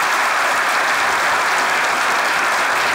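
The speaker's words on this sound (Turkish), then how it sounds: "Ekstra bir alkışı hak ediyor." Loud, steady applause from a crowd, continuous clapping filling the whole stretch with no voices breaking through.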